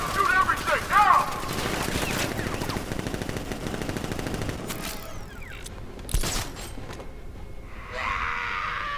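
Automatic gunfire from a shootout in Batman: Arkham Knight, dense bursts rattling for several seconds with a voice shouting over them, then thinning to sporadic shots and a final sharp report.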